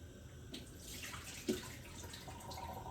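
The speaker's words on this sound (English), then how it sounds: "I'm going to now throw this water" Salty soaking water drains away from a bowl in a continuous splashing flow, fairly quiet and close, with one brief clatter midway.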